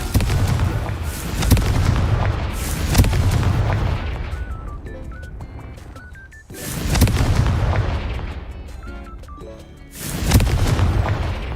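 Confringo fire spell blasts in the wizarding video game Hogwarts Legacy: three loud, booming explosions spaced a few seconds apart, each a sharp burst with a rolling rumble that fades, with faint chiming effects between them.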